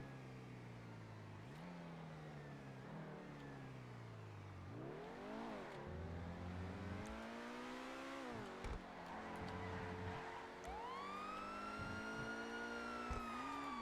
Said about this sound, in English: Sorry about the traffic noises, guys.